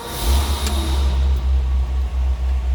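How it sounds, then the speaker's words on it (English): A 1956 Lincoln Premiere Convertible's engine turns over and settles into a loud, steady low rumble with slight uneven pulsing, heard up close and alone. "Let's go ahead and get this fired up so we can check out that engine bay and see how it sounds"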